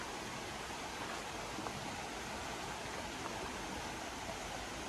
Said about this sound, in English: this nice little bridge goes over a creek